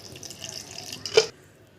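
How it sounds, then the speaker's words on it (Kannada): A short splash of cold water pours into a mixer jar, ending with a brief louder gush, close and quiet otherwise. "ಇದಕ್ಕೆ ನೀರು ಹಾಕ್ಕೊಳ್ಳಿ ಕೋಲ್ಡ್ ವಾಟರ್"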